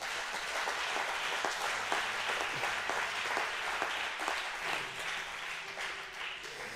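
A church congregation breaks into sustained applause, a dense steady wash of many hands clapping together that holds evenly throughout without pause.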